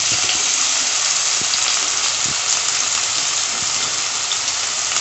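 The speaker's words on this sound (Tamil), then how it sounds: "நம்ம கொஞ்சம் ஆயில் ஊற்றி இஞ்சி பூண்டு பேஸ்ட்டு போட்டு" Ginger garlic paste sizzles in hot oil with a dense, continuous hiss at close range, joined now and then by soft clinks from the pan.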